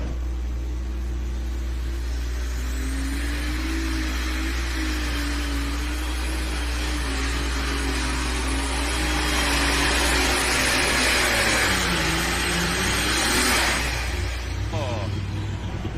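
A super stock pulling tractor, class running alcohol or diesel fuel, driven by Frank Keener at a championship tractor pull, roars with a rising, wavering engine drone as it pulls, loud and sustained beneath an announcer's commentary.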